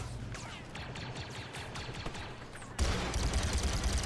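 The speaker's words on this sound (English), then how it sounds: "The clones are shooting me, Andrew." Clone troopers firing blasters in Star Wars Battlefront 2, rapid overlapping gunfire bursts with chirping laser shots, then a sudden louder, denser barrage near the end.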